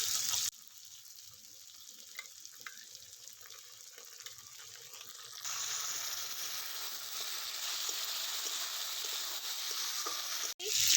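Ginger-garlic paste and chili paste hit a hot pan for an egg and rice dish, starting as a soft hiss, then swelling into a louder, steady sizzle midway, heard close up with no talking.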